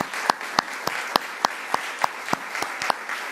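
Applause from an audience at a New York state government event, heard as a steady wash of clapping with sharper individual claps standing out at a fairly even rhythm, loud and close throughout.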